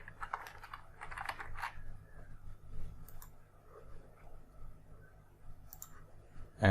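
Short bursts of computer keyboard typing as a label is entered in a PowerPoint slide, with quick clustered keystrokes early on, then quieter mouse-like clicks and a soft room background.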